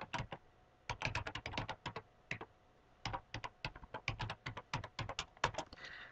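Typing a password on a computer keyboard, close and crisp: quick bursts of individual key clicks with short pauses between groups, alone in a quiet room.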